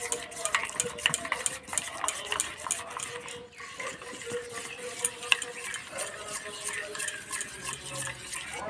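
A spoon stirs and clinks through a thin batter of rice flour and water for radish balls, with rapid scraping strokes against the bowl and steady clatter throughout, nearby and moderately loud.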